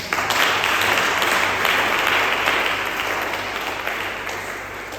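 A church congregation claps loudly together during a French-language service, a thick wash of applause that holds steady before easing off slightly toward the end.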